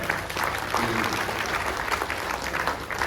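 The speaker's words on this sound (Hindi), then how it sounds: "जोरदार तालियों के साथ उनका स्वागत किया जाए" Hearty applause welcoming a speaker at a Road Construction Department farewell, a dense, steady burst of many hands clapping, with some murmuring voices underneath.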